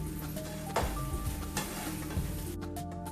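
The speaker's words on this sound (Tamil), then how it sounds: "இப்போ நம்ம வேக வச்சிருந்த மட்டனை போட்டுக்கலாங்க. ஒரு 5 நிமிஷம் நல்லா மசாலாலாம் போகிற அளவுக்கு வதக்கிக்கலாங்க." Mutton pieces and masala being sautéed in a pan for mutton Ceylon egg parotta, a steady close sizzle with repeated scraping stirs, brief clinks and a soft background tone, no talking.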